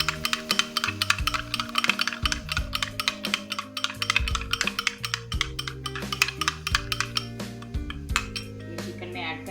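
A spoon beating cream from a tetra pack in a bowl, fast continuous clinking and scraping strokes against the dish, close and steady throughout.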